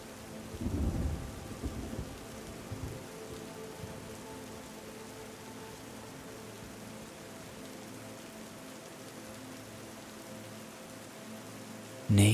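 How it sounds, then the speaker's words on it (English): Light rain patters steadily on rocks in a forest, a constant soft hiss of drops that continues throughout, with a brief low rumble near the start and a sharper noise at the very end; no voices. "Can you hear the light patter as the rain hits the rocks?"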